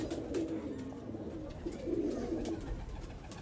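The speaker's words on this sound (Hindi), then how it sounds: "तो ये कबूतर है" A pigeon cooing close by, a soft low repeated throaty coo in gentle rolling phrases.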